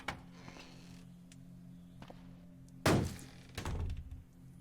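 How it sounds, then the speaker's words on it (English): Banging from upstairs in the video game Cataclysm DDA: a few dull thuds, with two heavier close bangs later, the second one rumbling longer, over a low steady hum. "Oh, somebody's banging on the upstairs."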